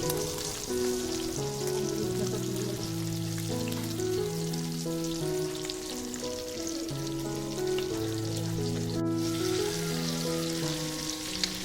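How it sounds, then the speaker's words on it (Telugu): Sardines fry in oil in a pan over a medium flame, producing a continuous crackling sizzle throughout, partly under steady melodic background music, with one brief sharp clatter near the end and no voices. "మధ్యలో ఫ్లిప్ చేస్తూ ఫ్రై చేసుకోండి."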